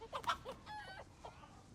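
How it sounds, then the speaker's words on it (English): Chickens in a TV show give a quick, close run of clucks and squawks, a few sharp calls then a short warbling one, with no talk over them. "Super chickens!"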